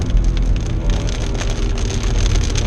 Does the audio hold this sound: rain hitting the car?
yes